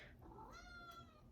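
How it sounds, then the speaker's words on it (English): A house cat meows once, a drawn-out, rising and falling call heard faintly indoors against a low background hum. "that's my other cat."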